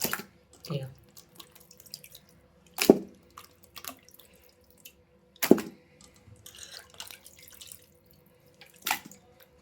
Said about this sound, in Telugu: ఇట్లా జల్లి గుళ్ళకి వేసేసుకోండి, నీళ్ళన్నీ నడిచిపోతాయి.